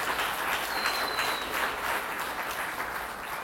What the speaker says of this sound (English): Let's give Marlene and the Bronx Overall Economic Development Corporation a strong round of applause.